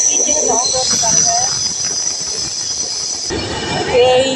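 A train's wheels screech against the rails in a loud, continuous high metallic squeal over the rumble of the moving carriages, with no one speaking.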